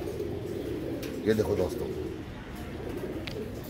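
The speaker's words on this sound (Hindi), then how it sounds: "ये चंद्रखानी कबूतर है ओरिजिनल ब्लड लाइन।" Chandrakhani pigeons of an original bloodline coo softly nearby in a low, throaty warble over steady background hum, while someone talks over them.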